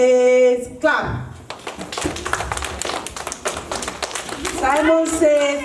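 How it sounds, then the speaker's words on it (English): Children at a first birthday party clapping on command during a game of Simon Says, a burst of rapid, uneven claps between an adult leader's loud sung calls. "Simon Says clap."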